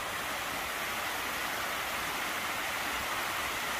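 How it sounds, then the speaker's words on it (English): A small waterfall spilling at a culvert gives a steady, even rush of water, close and continuous with no voices. "Another nice little waterfall thing, culvert, whatever you want to call it."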